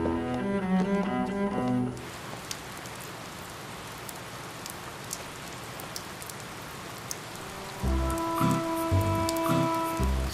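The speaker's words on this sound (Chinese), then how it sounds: "下这么大雨啊" Heavy rain pours in a steady, dense roar with scattered drop impacts, framed by music at the start and end.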